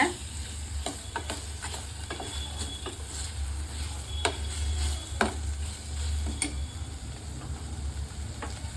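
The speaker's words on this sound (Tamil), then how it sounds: "மஞ்சள் தூள் போட்டு நல்லா வதக்கணுங்க." Onions with turmeric powder being sautéed in a pan over high flame for wheat sambar, steady sizzling under repeated sharp scrapes of a spoon against the pan, with no voices.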